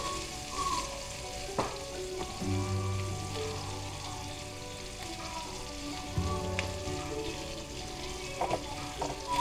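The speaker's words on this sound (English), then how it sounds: "I'm going to fry the onions, let them fry down" Onions frying in a pan sizzle steadily up close, with occasional stirring scrapes and soft clinks breaking through the continuous crackle.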